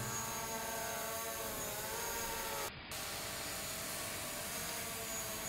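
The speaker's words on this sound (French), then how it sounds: "il opère le drone depuis sa télécommande, son téléphone. Donc il le fait décoller" A camera drone's high, steady whine, shifting in pitch as it takes off, climbs and moves, with a brief dip partway through.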